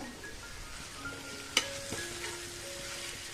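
Sliced onions stirred and sautéed in a pan for chicken biriyani, a steady soft sizzle with a sharp utensil clack near the middle and light scraping, close and moderately quiet.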